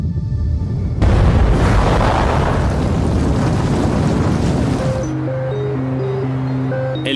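A massive underwater blast from several Russian nuclear submarine torpedoes detonating almost at once: a sudden loud roaring boom that rumbles for about four seconds, then cuts abruptly to a low droning tone with a sparse musical pattern.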